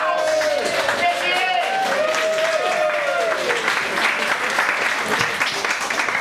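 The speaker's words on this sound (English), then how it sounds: "Big round of applause." A room full of fans applauds and cheers as a guest is introduced, continuous clapping with raised voices and whoops over it, holding steady throughout.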